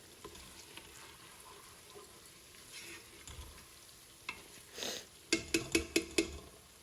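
Onions frying in a pan for mutton karahi, giving a steady soft sizzle with stirring scrapes, then a burst of louder clatter and sharp rhythmic taps near the end.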